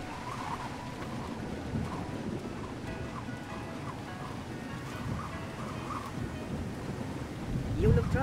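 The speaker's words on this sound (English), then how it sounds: "Thunderstorms make me nervous." A thunderstorm in the stealth game Splinter Cell: Chaos Theory produces a steady low rumble of thunder over rain, swelling into a louder roll near the end.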